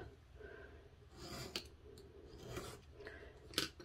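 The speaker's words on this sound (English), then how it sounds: "line it up with the corner of your chipboard, and then you would just trim this corner off" Chipboard corner is trimmed by hand, producing a few faint, brief cutting snips and crisp clicks over quiet background, close and soft.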